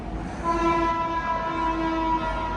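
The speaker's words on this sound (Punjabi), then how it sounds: "ਉਧਰੋਂ ਟ੍ਰੇਨ ਨੇ ਵੀ ਹਾਰਨ ਮਾਰਤਾ" A passing train sounds its horn: a sustained, steady multi-tone blast lasting about two seconds, fairly loud and slightly distant, over a low rumbling background.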